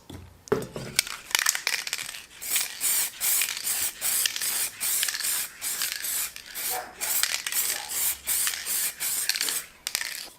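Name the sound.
spray can of clear plastic primer on car dash parts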